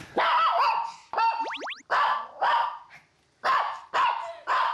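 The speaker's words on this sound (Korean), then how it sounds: "아유, 많이 짖는구나, 너도." An excited Maltese dog barks repeatedly at close range, loud high-pitched yaps in quick bursts with short pauses between them.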